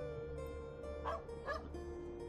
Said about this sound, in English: There's a doggy.